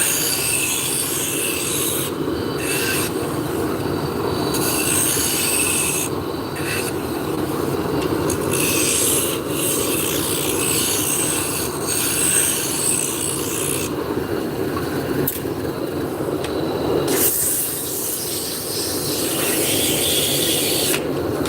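Wood turning on a lathe with a spindle gouge, a loud continuous rasping cut over the motor's hum, with the scraping pitch and intensity shifting as the tool moves along the spinning spindle.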